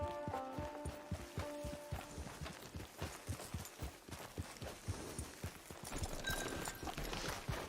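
Horse hooves clip-clop at a steady, brisk rhythm in the Red Dead Redemption 2 Online video game, a close, continuous run of hoofbeats under game ambience.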